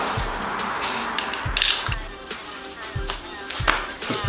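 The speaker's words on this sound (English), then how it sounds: "I'm going to hit it with the primer now" An aerosol spray can lays primer onto a Honda Integra front lip in several short hissing bursts, with faint clicks and light taps between the sprays.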